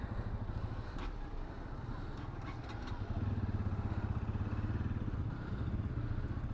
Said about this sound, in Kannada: ಫುಲ್ಲು ಜಾಮ್ ಆಗಿಬಿಟ್ಟಿದೆ ಕಾರ್ಗಳೆಲ್ಲ ಬೈಕ್ಗಳೆಲ್ಲ